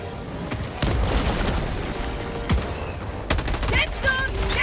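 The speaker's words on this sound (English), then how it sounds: "Throwing grenade." A thrown grenade detonates amid dense video game combat, one deep boom standing out from continuous rapid gunfire and bursts, loud and close, with voices faintly under the din.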